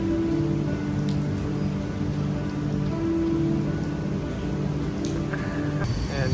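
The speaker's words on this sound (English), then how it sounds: "here's what the rooftop looks like in the rain" Steady rain pattering on a rooftop in Little India, Malaysia, a constant dense hiss with a low hum underneath.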